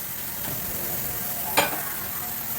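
Leftover cooked squid is stirred in a frying pan with a faint steady sizzle and a soft utensil scrape, close and quiet with no talking.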